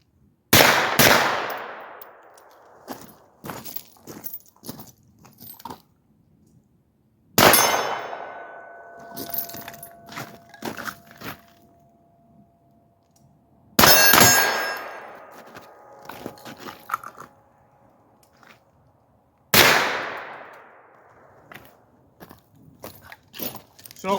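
Rifle shots striking a steel target at 75 yards during night shooting: four sharp, loud gunshot cracks spaced several seconds apart, each followed by a ringing metallic clang and decay, with quiet gaps of handling noise between.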